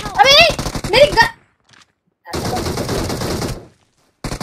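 A short burst of rapid gunfire in an aggressive rush match of a shooting video game, loud and close, comes after excited voices talk, then fades to near silence.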